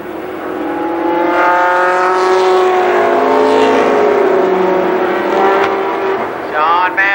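Midget race cars roar down the backstretch at Columbus Motor Speedway, a loud pack of engines rising and sweeping past while an announcer calls the race over them.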